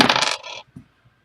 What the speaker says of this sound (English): Let's roll some dice